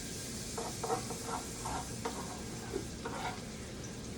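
Onions and garlic cooking in a hot pot for a Tuscan bean dish, with a soft sizzle underneath a few quiet scraping stirs of a spoon against the pot.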